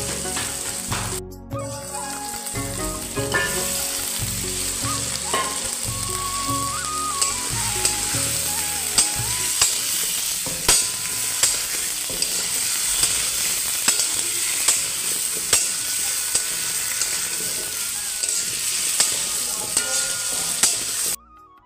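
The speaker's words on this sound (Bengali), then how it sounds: "এবার আমি এর ভিতরে আলুগুলো দিয়ে দেবো।" Potatoes fry in hot spiced oil with a steady, loud sizzle, and a spoon scrapes and stirs them in a regular rhythm of sharp clacks. It runs continuously with no talking.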